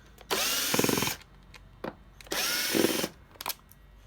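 A power drill spins off the air box lid bolts on a Yamaha Blaster ATV in two loud whirring bursts, each about a second long, separated by short clicks and tool handling.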